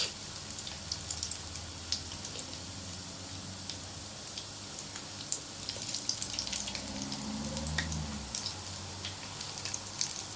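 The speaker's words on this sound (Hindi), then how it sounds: "कोफ्ते वो हम ऐड करते जाएंगे अपने ऑयल के अंदर" Spinach koftas fry in hot oil for kadhi, giving a soft, steady crackle and sizzle with scattered sharp pops throughout, heard alone.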